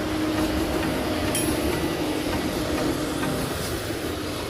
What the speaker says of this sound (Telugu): పట్టాల మీద మహబూబ్ నగర్ ఎక్స్ప్రెస్ అయితే రెడీగా ఉంది.